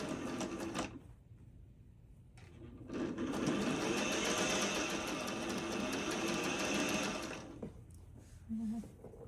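A sewing machine stitches quilt fabric for a LeMoyne Star block, buzzing in two bursts, a short one and then a longer steady run of several seconds, close up with quiet gaps between.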